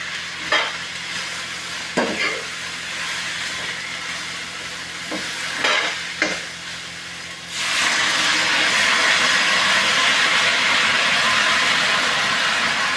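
Peanut pods and brinjal masala stirred and fried in a pan: a few scraping stirs at first, then a loud, steady sizzle that swells midway and keeps hissing close by, with no voices.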